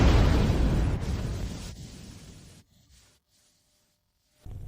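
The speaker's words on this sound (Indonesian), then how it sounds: "Tungku pertama benar-benar meledak." A deep, rumbling explosion roars out of an alchemy furnace in a fantasy story, booming loudly for a couple of seconds. It cuts off into near-silence, and then a fresh burst of sound starts.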